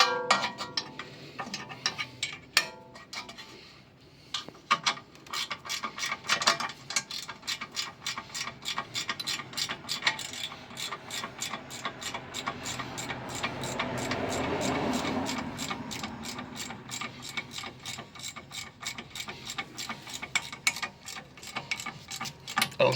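A ratchet wrench clicks rapidly and steadily at close range for a long stretch while tightening a wheel bearing nut on a Golf 6 1.4 16V, with metallic ticking and a few heavier knocks.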